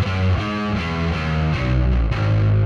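Heavily distorted, bright bass guitar tone from a Fractal amp block with no drive pedal in front, a thick, gritty run of low notes played close and loud without any talking.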